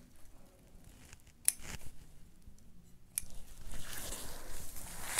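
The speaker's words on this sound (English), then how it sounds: "So cut the sequin fabric." Scissors snipping through sequin fabric, a couple of sharp clicks followed by a rough rustling scrape of sequins as the cutting continues, close and quiet with no talking.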